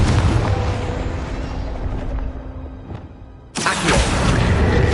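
A Confringo fire spell goes off in the Hogwarts Legacy video game. A loud roaring burst fills the first seconds, fades, and then a second sharp explosion hits near the end, with no talk over it.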